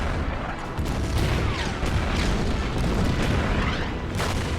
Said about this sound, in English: I'm going to use the artillery on that heavy.